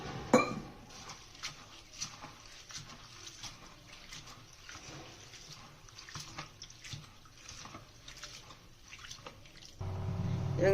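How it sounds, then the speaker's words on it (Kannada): Poha is washed with water in a bowl by hand, giving soft splashing and sloshing up close with a few knocks against the bowl and a louder gush of water near the end. "ನೀರು ಹಾಕ್ಬಿಟ್ಟು 1-2 ಸಾರಿ ತೊಳಿಬೇಕು ಚೆನ್ನಾಗಿ."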